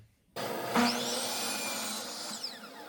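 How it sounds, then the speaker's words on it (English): A miter saw spins up and slices through a wood piece for a blanket ladder, a loud sustained whine with a rising pitch at the start of the cut and a falling pitch as the blade winds down. "so it's nice and safe to make this cut on the miter saw"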